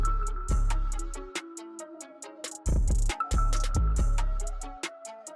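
A sustained ambient note from the Sonuscore Sonic Forest Kontakt library rings in the background beneath a full beat with punchy low kicks and bright percussive hits, with no talking.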